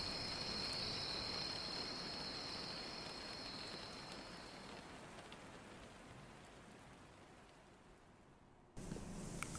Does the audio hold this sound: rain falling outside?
yes